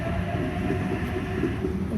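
An Oscar electric multiple-unit train rumbles steadily out of Coniston station, made up of two four-car sets. The rolling, broadband noise of wheels and motors is close, loud and continuous, with no talking.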